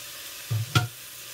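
Garlic hits a hot pan with onions in foaming butter, a short sizzle and stir that flares briefly and then fades, alone without voices.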